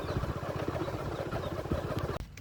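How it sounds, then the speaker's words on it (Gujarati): A motorcycle engine runs close by with a low, steady, pulsing putter for about two seconds before cutting away abruptly. "બાઇક ચલાવે"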